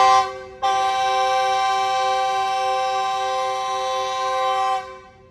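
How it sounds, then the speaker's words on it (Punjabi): A departing Awami passenger train at a village railway station sounds one long, loud, steady horn blast lasting several seconds. A brief toot comes first, and the horn fades at the end with no talk over it. "ਤੇ ਉਹ ਚੱਲੀ, ਉਹਨੇ ਸਾਇਰਨ ਦੇ ਦਿੱਤਾ ਹੈਗਾ"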